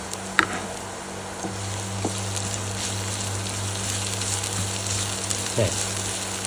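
Onion and garlic fry in a pan as they are stirred, giving a steady close sizzle with a few soft knocks of the spoon, and no talking.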